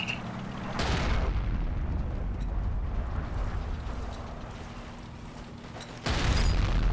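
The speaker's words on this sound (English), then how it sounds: "That's how you throw nades." Grenade blasts in the video game Forgotten Hope 2, sharp broadband bursts near the start and end framing a long stretch of dense, rumbling battlefield noise with sustained low hum and distant gunfire.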